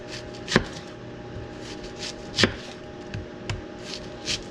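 A knife chops food on a cutting board in a home kitchen, giving a few sharp, separate knocks spaced irregularly over a quiet room hum, with no voices.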